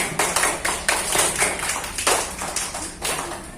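A classroom group claps for a student team, a loose run of sharp nearby hand claps and taps coming in uneven bursts with no talking over them.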